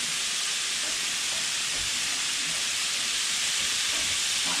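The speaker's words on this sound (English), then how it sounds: "Just stirring up these vegetables again like I talked about." Chopped vegetables for a chorizo dip are stirred in a hot pan, with a steady, loud sizzling hiss running throughout and faint scrapes beneath it.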